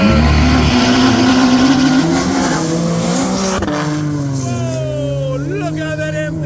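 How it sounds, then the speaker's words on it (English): A BMW Mark 1 race car launches hard off the drag strip line, its engine roaring loud and close before the pitch climbs through the revs and a gear change. "But what a launch from that BMW"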